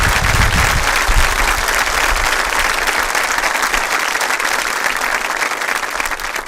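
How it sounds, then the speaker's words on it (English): A school district convocation audience applauds in a loud, dense, sustained wash of clapping that holds steady from start to finish with no talking. "As a district, give yourselves a round of applause"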